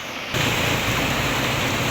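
Very heavy typhoon rain from Typhoon Ramil surges in after a brief quieter moment, then holds as a loud, constant, dense roar.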